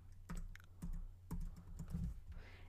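Keys tapped on a computer keyboard while entering a project name in GarageBand, heard as a few short bursts of close clicking separated by brief pauses.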